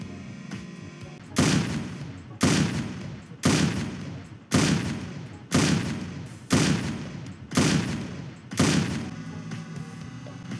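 Gunfire from a golden Floppa gunner tower in a Roblox tower defense game: seven loud, evenly spaced booming bursts, each fading before the next, over a faint background.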